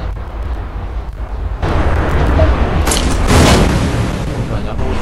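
Gunfire and booms in the Free Fire battle game, a dense continuous barrage of shots and blasts that grows louder midway, with a player talking over it.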